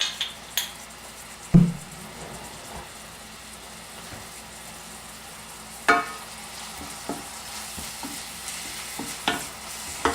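Aromatics are sautéed in a few tablespoons of oil for a simple homemade tomato sauce, with a soft continuous sizzle broken by scattered spoon knocks and scrapes against the pan, nearby and without speech.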